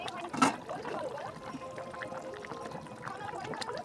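Water poured into a pan of chicken kosha curry makes a short splashing gush near the start, then a faint bubbling, gurgling simmer.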